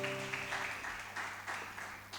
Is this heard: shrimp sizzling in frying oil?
no